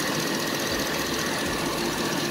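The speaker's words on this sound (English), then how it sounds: "So, the truck's running." A 2009 Chevy 1500 pickup truck engine idles loudly and steadily after a head gasket repair, a constant rumbling drone with a rough knocking texture throughout, close by.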